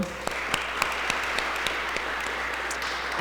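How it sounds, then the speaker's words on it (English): An audience at a sustainability event for Earth Month gives steady, moderate applause for the event team, with a few sharp individual claps standing out from the even wash. "give them a round of applause for their hard work"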